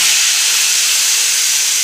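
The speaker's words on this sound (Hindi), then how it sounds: "दाल हमने एक बाउल में डाल दिए और अब इसके ऊपर मैं गरम गरम तड़का लगाऊँगी" Hot cumin and curry-leaf tempering poured over a bowl of spicy moong masoor dal gives a loud, continuous hissing sizzle that holds steady without a break.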